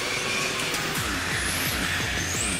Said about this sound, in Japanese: タイヤがすごい音してる